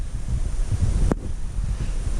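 Strong wind during Hurricane Ida, a loud continuous low rumble of gusts buffeting the microphone, with one brief sharp knock partway through.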